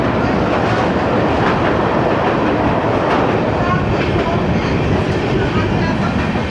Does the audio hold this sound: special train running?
yes